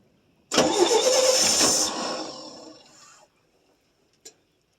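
A 1966 GMC inline-six cranks and catches after at least two years of sitting, bursting into a loud rough run for about a second and a half, then fading and stumbling to a stop, with one short sharp pop afterward.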